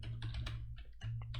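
Short burst of typing on a computer keyboard during Python coding, a handful of close, quiet key clicks in quick succession with a brief pause midway and low background hum, no speech.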